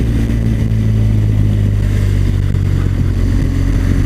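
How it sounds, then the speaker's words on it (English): A BMW R1200GS boxer twin motorcycle engine braking down a steep hill, a steady low droning rumble close and loud with constant wind noise, no talk. "Lots of engine braking from the Boxer Twin, which is nice."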